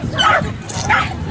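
At an agility jumping demonstration, a dog gives two quick, sharp, close barks, one after the other, while an announcer speaks over them.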